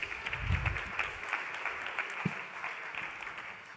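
Applause from an audience at a startup ecosystem networking event in Occitanie, a soft steady patter of many hands clapping in a room, fairly faint and continuous, with no talking.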